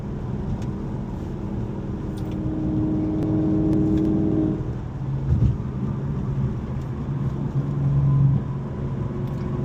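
A 2024 Ford Mustang GT's engine in sport mode, a steady close drone that shifts pitch midway and swells briefly twice, without talk.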